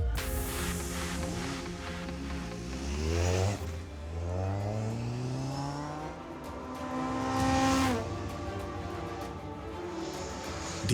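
A Caterham 620R lightweight sports car engine revs hard at the start, rising and falling pitch sweeps of a loud, raw exhaust across several gear changes, close and continuous with no talk.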